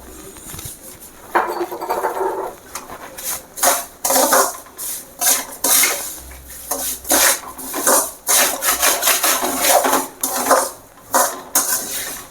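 Semolina for rava kesari roasting in ghee, stirred hard with a spoon scraping the pan in repeated loud rasping strokes, close up with no voices.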